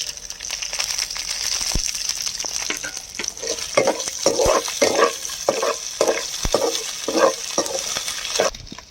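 Chopped ginger, garlic and four green chillies fry in a pan, giving a close, steady sizzle with repeated stirring scrapes and crackles and no talking.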